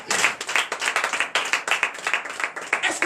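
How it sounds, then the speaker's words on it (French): A smaller group claps during a morning prayer gathering at a church in Benin, producing uneven bursts of distinct hand claps in a loose rhythm, fairly close and lively. "Si tu comprends, tu allais applaudir plus que ça."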